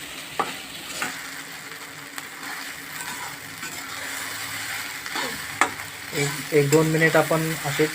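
Sabudana and potato khichdi is stir-fried in a pan, giving a steady sizzle broken by spatula scrapes and knocks that grow busier near the end, with a voice briefly talking over it.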